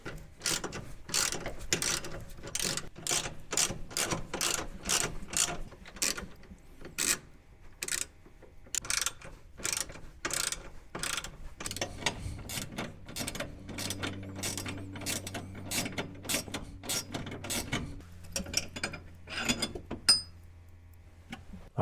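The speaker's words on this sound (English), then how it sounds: "So we'll go ahead and get that taken off. These are also 14mm bolts." A hand ratchet clicks rapidly and steadily while removing 14mm bolts from a Jeep differential cover, close and crisp, with a low mechanical hum joining partway through.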